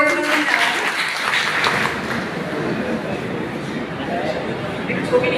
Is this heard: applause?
yes